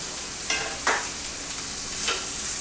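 Steak frying in a hot pan, a steady bright sizzle with a few louder crackling bursts as the meat is stirred or moved, close and moderately quiet, no talking.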